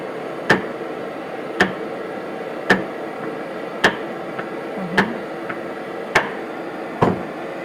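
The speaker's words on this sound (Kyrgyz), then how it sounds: "Азыр этти кесип атабыз мынакей." A knife or cleaver chops meat for steak on a board, giving about eight sharp, evenly spaced thuds close by, with no talk.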